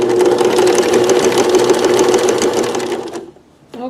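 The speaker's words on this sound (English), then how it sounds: "We're going to sew using the outside edge of the presser foot as our guide by lining it up along the gingham." A sewing machine stitches steadily along gingham on a towel, a loud, even mechanical whir that runs nearly the whole time before stopping abruptly near the end.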